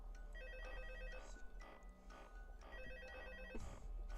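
A telephone rings in the horror video game Five Nights at Freddy's 2, two long electronic ring bursts separated by a pause, over a low, steady background hum.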